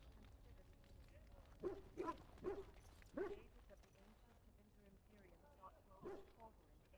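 Dogs bark in short bursts in the kennels of the fantasy role-playing game Dragon Age: Origins, a few moderately loud yaps scattered over a low murmur of game ambience.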